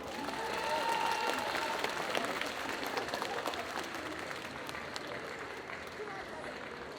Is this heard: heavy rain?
no